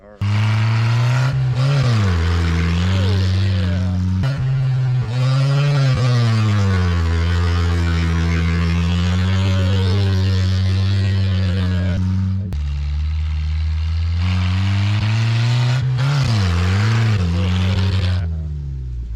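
A 1974 Datsun 620 pickup truck engine revs hard and loud while accelerating, its pitch climbing through the gears with brief drops at each shift, close and continuous for the whole stretch.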